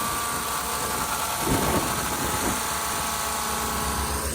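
An air compressor runs steadily, driving pressurized air through a filter-cleaning attachment to blow out a harvest machine's filter, with a loud continuous mechanical drone and a brief surge of rushing air partway through.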